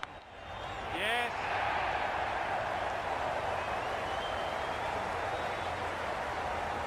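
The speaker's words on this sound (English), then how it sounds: "The crowd are really getting quite raucous. It's going to be difficult to focus down in the middle with this amount of noise." A loud, raucous cricket crowd roars continuously in the Ashes Cricket 22 video game during an Australia versus England match, a steady wall of cheering with a brief whistle-like sweep near the start, and a commentator talks over it.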